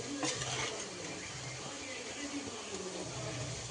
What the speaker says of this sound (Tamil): இது கொஞ்சம் லைட்டாக கிளறி வைக்கணும்